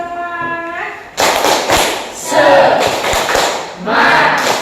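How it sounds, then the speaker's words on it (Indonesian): A school class in an Indonesian science lesson does a rhythmic spirit clap. A voice leads off, then bursts of group claps and thuds come in a patterned rhythm, with students chanting along. "mari seperti biasa kita tepuk semangat agar lebih semangat lagi mengikuti pembelajaran"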